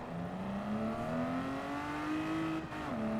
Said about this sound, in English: Oh, I revved it.